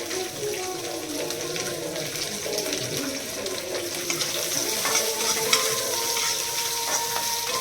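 Onion and whole green chilies frying in a pan, a steady sizzle with stirring scrapes and some running water in the background, moderately close and continuous with no talk.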